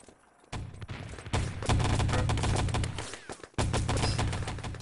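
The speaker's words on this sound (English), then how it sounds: "You saw a Squiz there putting some headshots in." Automatic gunfire in Enemy Territory during a 3on3 LAN tournament match: dense, continuous rapid shots with heavy booming impacts, broken by a couple of short pauses, loud and close.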